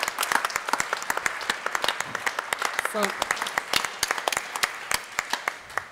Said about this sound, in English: So I want to give you a round of applause here.